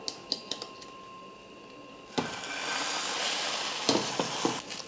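A tea-time snack cooking in a pan: a few light clicks and taps give way to a sudden loud, steady sizzle of frying, with occasional utensil clatter and no talking.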